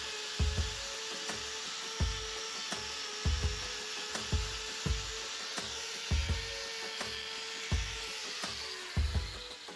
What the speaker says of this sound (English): I get on with the trim as quickly and as gently as I can.